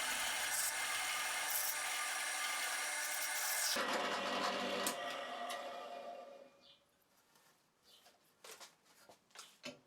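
A drill press whirs loudly as a slightly bent spade bit bores into a wood block, the grinding fading out partway through, followed by a few scattered knocks and rattles.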